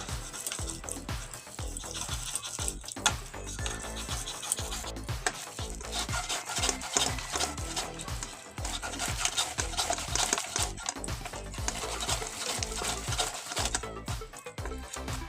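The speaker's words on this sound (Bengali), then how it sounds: "এই গেটারের সাহায্যে আমি পুরো ফল, এই তালের ফল পুরো বাই করে নেবো।" Ripe palm fruit pulp being grated by hand on a metal grater gives a steady, close scraping rasp with repeated rhythmic strokes throughout, and no talking.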